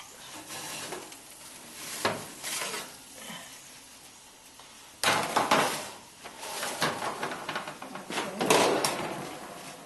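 A tray of cooked meatballs comes out of a home oven, with a clunk of the oven door, metal tray scrapes and soft sizzling, close and moderately quiet, with a sharper clatter midway.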